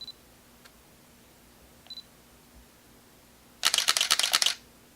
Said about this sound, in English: that's the normal shutter sound